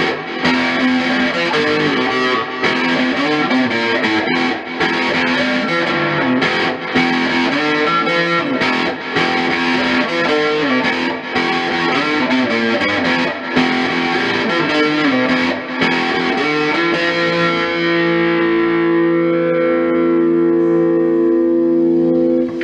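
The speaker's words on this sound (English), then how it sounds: "crunchy, nice, distorted sound to it." An ESP LTD James Hetfield Snakebyte electric guitar, heavily distorted, plays crunchy chords with a swirling flanger, echoing delay and roomy reverb, loud and alone, ringing out at the end.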